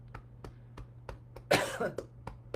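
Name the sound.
cough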